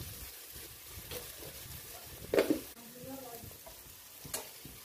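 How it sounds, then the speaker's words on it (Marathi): Onions and green chilies sautéing in oil in a pan, a soft continuous sizzle broken by several stirring scrapes and one louder clatter midway, close and alone. "आता कांद्याला आणि मिरचीला छान तेल सुटलं आहे, परतून झालं आहे ते."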